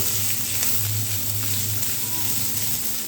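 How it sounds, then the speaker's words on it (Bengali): Chopped onion sizzles steadily in hot oil in a pan with ginger and garlic, a dense, even frying hiss with no voices, close and continuous throughout. "এখন এর মধ্যে দিয়ে দিচ্ছি অর্ধেকটা পেঁয়াজ কুচি এই পেঁয়াজটাও একটু ভালো করে ভেজে নিতে হবে"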